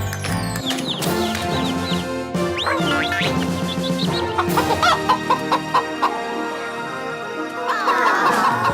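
Chickens cluck and squawk in a lively cartoon farmyard, bursts of rapid clucking rising over busy music, with a quick run of short, choppy calls near the end.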